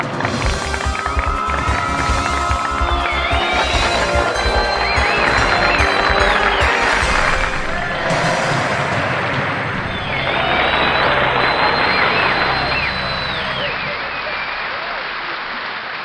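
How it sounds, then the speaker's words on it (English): Applause and cheering rise from a game show audience welcoming the first contestant of Who Wants to be a Millionaire, loud and sustained, mixed with music and swelling again midway. "Now, please give a big round of applause for our first contestant, Lucky from Ireland."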